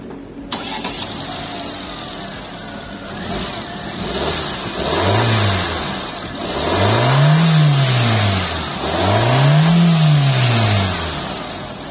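A turbocharged 2022 Wuling Cortez car engine cranks and catches, then revs up three times in rising and falling surges, loud and close, with no talking.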